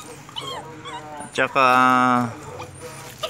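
A puppy of unknown breed whimpers and yips loudly up close, ending in a long sustained whine, while a person speaks briefly nearby.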